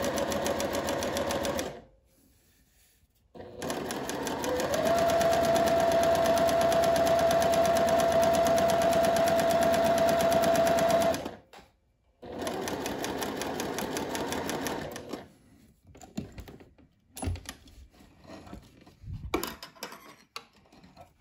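A sewing machine stitches a narrow hem straight down a creased fabric edge, running in a steady, loud whirring stretch after a short start, then stopping with a few brief clicks and bursts.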